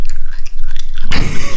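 Close-up chewing of crispy fried salmon with a sudden loud crunch partway through, followed by several crisp, crackling bites.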